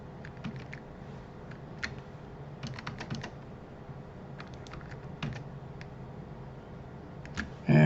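Computer keyboard keys are pressed in scattered bursts and single taps, including spacebar and control shortcuts, crisp and close against a quiet room hum.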